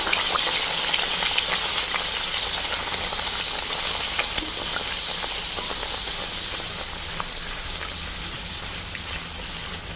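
Green pea kachoris deep-fry in hot oil, a steady close bubbling sizzle that hisses continuously for ten seconds with occasional faint pops and no talk.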